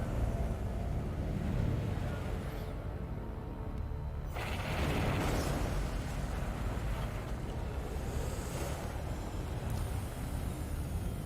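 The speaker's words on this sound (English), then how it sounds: "We'll have our ship come along and blast open the entrance." Explosive blast from Metroid Prime 3 as the ship fires to open an entrance, a loud rumbling burst around the fourth second followed by sustained mechanical game noise, with no speech.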